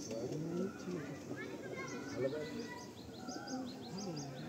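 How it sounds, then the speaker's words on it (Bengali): Several pigeons in a loft coo in soft, repeated low calls alongside chirps, heard faintly under nearby conversation. "খুব সুন্দর একটা নর পায়রা।"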